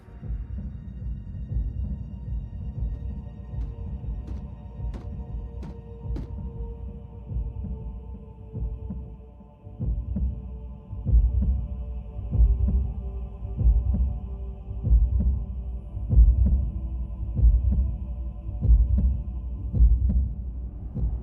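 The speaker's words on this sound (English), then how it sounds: "a Cybertronian heartbeat?" A pounding Cybertronian heartbeat from the animated series Transformers Prime, with deep, regular double thumps over a low hum, faint and sparse at first, then louder and steady for about twenty seconds.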